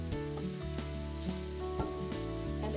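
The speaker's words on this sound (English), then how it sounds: "So you can just go ahead and saute that down." Leafy greens such as spinach sauté in a hot pan, giving a steady soft sizzle close by, while a few light knocks from stirring or utensils break in now and then.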